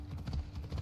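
A horse's hooves clip-clop in the Assassin's Creed Odyssey video game, a few quick, soft, muffled steps in an even walking rhythm with no talk.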